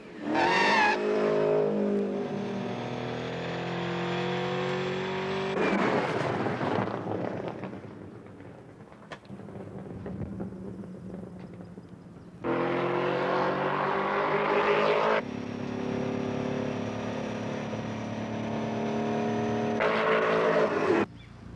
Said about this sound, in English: here comes the Porsche, catching it up very well